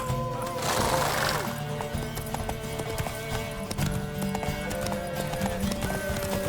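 A horse clip-clops at a steady gallop and whinnies in The Witcher 3, the hoofbeats loud and continuous against game music and ambience, with a brief voice near the start.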